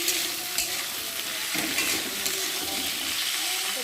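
Diced potatoes sizzle loudly in hot oil while being stirred. A steady frying hiss runs throughout, broken by occasional scraping stirs.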